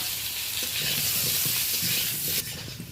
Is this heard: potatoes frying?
yes